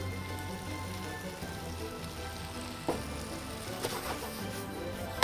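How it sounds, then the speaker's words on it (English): Tofu sautéing in a pan for pad Thai noodles, a steady even sizzle like light rain with a few soft stirring knocks. "Saute it nicely."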